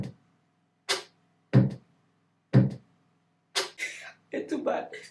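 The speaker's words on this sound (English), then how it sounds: "the kicks and the hi-hats together sound like this." Kick drums and hi-hats from an Afrobeat-style song production play together in a sparse, loose pattern of short hits, with low thumps alternating with bright crisp ticks, close and clear with no talk.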